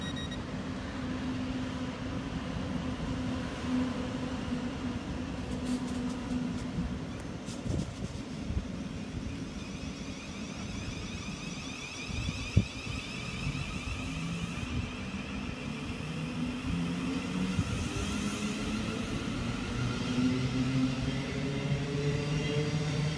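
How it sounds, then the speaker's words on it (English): A 12-car Brighton service, unit 700111, passes at Haywards Heath coming down from London Bridge: a faint, steady whirring rumble that builds gently toward the end, with no talk over it. "is a 12 car service going to Brighton on unit"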